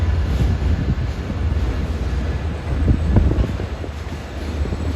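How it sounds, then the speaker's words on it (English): Train 655 from Port Jefferson arriving at a station, a low rolling rumble of rail cars at moderate distance, partly masked by heavy gusts of wind buffeting the microphone. "this is train 655, arriving from Port Jefferson"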